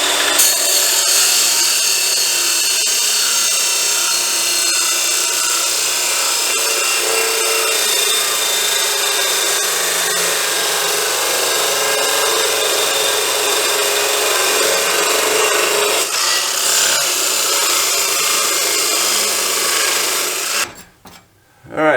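A power tool cuts through a metal piece for rear spare tire traction board mounts, a loud, continuous harsh grinding rasp held for about twenty seconds before stopping abruptly, then a brief restart.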